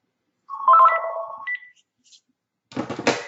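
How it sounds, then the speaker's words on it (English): A phone rings during a live online class session: a clear electronic ring tone sounds for about a second, then a short pause, followed by a harsher buzzing burst near the end, with no talk over it. "Got a phone call that I'm going to"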